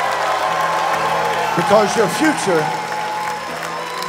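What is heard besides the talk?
congregation clapping hands and shouting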